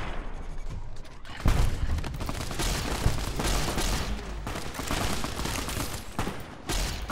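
Laser rifle fire from Fallout: New Vegas, with dense crackling energy shots firing steadily over a noisy combat backdrop. The shots run continuously and loudly from about the second mark to the end.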